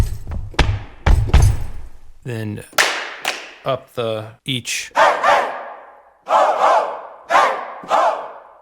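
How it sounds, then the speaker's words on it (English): Folk-style group vocal samples from a sound library: heavy stomps and sharp claps hit in quick separate strikes, followed by a run of short, loud group shouts spaced at even intervals, dry and close. "We have stomps, claps, and shouts."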